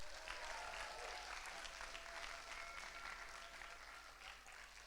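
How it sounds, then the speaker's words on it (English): An audience at a Scottish youth poetry slam gives a final round of applause: dense, steady clapping that carries on for about five seconds before easing slightly. "One final big cheer for Wallace High."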